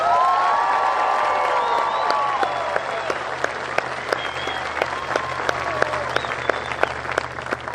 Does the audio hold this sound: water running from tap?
no